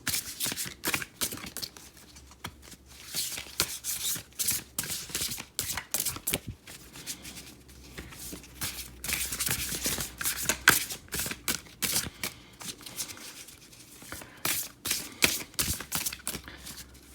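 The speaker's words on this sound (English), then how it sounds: "I love these cards, but I still am learning how to shuffle them." A deck of Lunar Nomad Oracle cards is shuffled continuously for several seconds, giving dense riffling and flicking rattles close up, with brief pauses between passes.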